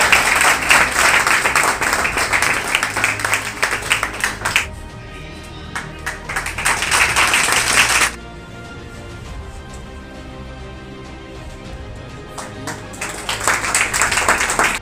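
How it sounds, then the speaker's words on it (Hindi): An audience applauds a district board exam topper called onto a stage, loud sustained clapping in two bursts separated by a quieter pause, then swelling again at the end. "एक बार इसके लिए तहे दिल से जोरदार ताली बजाएं।"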